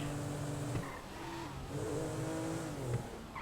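Car driving in Grand Theft Auto 5, a steady droning engine with shifting revs and tire noise, continuous and fairly loud throughout.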